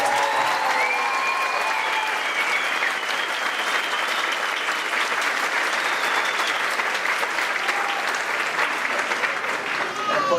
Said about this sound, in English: Please, a thunderous round of applause for our students